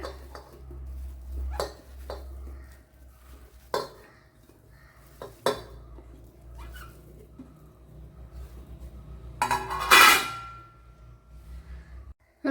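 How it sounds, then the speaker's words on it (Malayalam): Soya chunks go into a pressure cooker in a home kitchen, with scattered sharp metallic clinks and taps, then a louder rattling clatter near the end and no speech. "സോയാ ചങ്ക്സ് കുക്കറിലേക്ക് ഇട്ട് കൊടുക്കാം"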